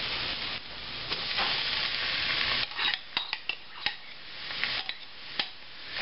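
Chilies sizzle with softened onions in a pan, a steady frying hiss broken by a run of sharp scrapes and clinks as a utensil stirs them, close and alone.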